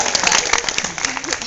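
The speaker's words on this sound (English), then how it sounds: "Clap, clap!" An audience at a stand-up comedy show claps in a steady, dense wash of applause, with a voice or two mixed in beneath it.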